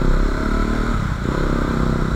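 A KTM Duke 250 motorcycle engine drones steadily while riding, a loud continuous mid-range hum with slight wind rush and no talking.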